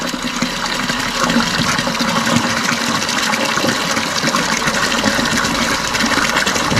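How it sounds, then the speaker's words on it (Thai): Water gushing steadily from a solar-powered pump into a tank, a loud continuous splashing rush that holds without a break. "น้ำมาละ"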